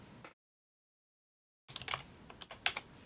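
A short burst of keystrokes, then a gap of silence, followed by a quick run of soft clicky typing on a keyboard, close by and quiet.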